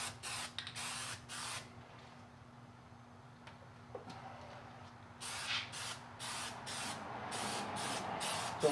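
Plasti Dip rubber coating sprayed from an aerosol can in light first coats, heard as repeated short hissing bursts, fairly close, with pauses between passes and quieter handling sounds in the gaps.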